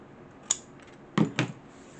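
Scissors snip a triangle off thick cardstock for a junk journal kit, giving one short crisp cut followed by two quick louder snips close by in a quiet room.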